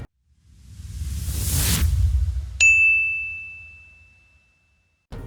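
A notification bell sound effect: a swelling whoosh builds, then a single bright ding rings out clearly and slowly fades, with another sharp hit starting right at the end.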